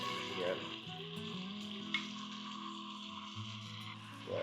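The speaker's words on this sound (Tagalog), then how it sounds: "Habang niluluto natin tong ating baboy, ginigisa muna natin." Marinated pork with calamansi and soy sauce sautéing in a pan for Filipino igado, a steady close sizzle and crackle with soft stirring scrapes throughout, no talking.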